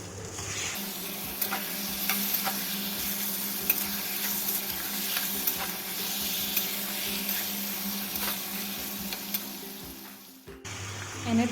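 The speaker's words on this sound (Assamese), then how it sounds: "এনেধৰণে মাংসখিনি প্ৰায় আধা ঘণ্টামান ভাজি থাকিব লাগিব, যেতিয়ালৈকে মাংসখিনি প্ৰায় সিজি নাযায়।" Spiced chicken pieces fry with onions in a pan for a homemade lai-greens chicken curry, a loud continuous sizzle with regular scraping stirs. The sound drops out briefly near the end, then resumes.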